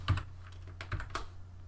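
Several distinct keystrokes tap out on a computer keyboard while a layer is renamed in Photoshop Elements, crisp and close with short gaps between them and no talking.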